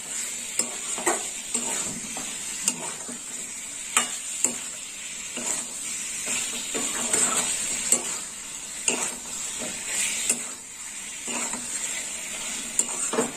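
Pointed gourd curry with fennel seeds stir-fried and browned in a pan: a steady close sizzle with repeated scraping of a spatula against the metal, soft clinks now and then, and no voices.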